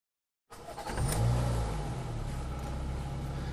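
After a moment of silence, a Ford Fiesta Mk4 engine starts a steady low idle that holds close and even throughout, with a brief louder burst early on and no voices.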